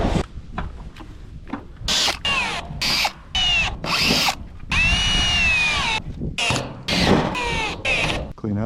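Power drill driving gasketed screws into the roof of a simple firewood shed, loud close bursts of motor whine starting and stopping repeatedly with short pauses between screws.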